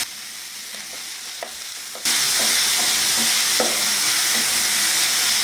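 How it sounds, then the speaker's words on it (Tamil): Chicken for a samosa filling sautés in a pan. After a few quiet stirring taps, a loud, steady sizzle bursts in and keeps going, with occasional scrapes from stirring underneath it. "சிக்கனை இது போல் நல்லா வதக்கி விட்டுட்டு"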